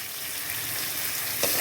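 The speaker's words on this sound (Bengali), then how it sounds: "এইটা এবার যতক্ষণ পর্যন্ত না মশলাটা থেকে তেল ছাড়বে ততক্ষণ মশলাটা আমি কষিয়ে যাব" Spice paste of onion, garlic, chili, ginger, cumin, coriander and turmeric sautéing in oil, a steady close sizzling hiss with a short scrape of stirring near the end.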